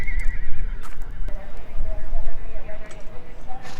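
Horses whinny and neigh repeatedly amid clip-clopping hooves at a horse competition at Pima County Fairgrounds, with people talking in the background of an outdoor crowd.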